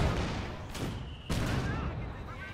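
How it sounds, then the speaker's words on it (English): Mortar pit firing artillery rounds in Company of Heroes 2, with two sharp broadband blasts about half a second apart over a dense, steady bed of battlefield noise and rumble. "So mortar pits returning fire onto the ISG."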